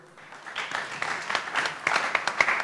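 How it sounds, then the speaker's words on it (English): A seminar audience at an EU–Israel innovation event claps, beginning softly and swelling into fuller, sharper applause toward the end. "You can give her a round of applause."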